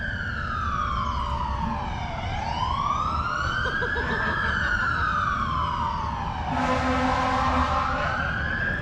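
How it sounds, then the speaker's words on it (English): An emergency vehicle passing with a wailing siren that sweeps slowly up and down, loud and close, with a blaring horn blast toward the end over street noise. "I hate people with loud horns."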